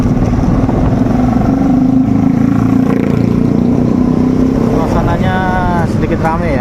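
Midday street traffic on a congested road with motorcycles parked at the roadside, a continuous rumble of car and motorbike engines passing close by with some revving, while a person talks over the traffic.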